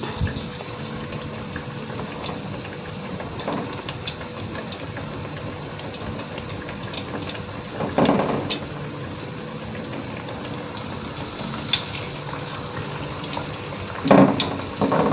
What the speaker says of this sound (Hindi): अब जी अल्लाह का नाम लेके इसको पैन में डालते हैं।